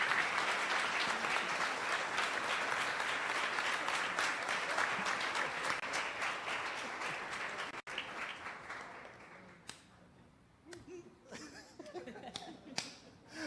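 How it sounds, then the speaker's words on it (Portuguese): A church congregation claps loudly and steadily for several seconds before the applause fades, leaving scattered single claps and a few soft voices in a quieter room. "E a igreja aplaude ao Senhor Jesus."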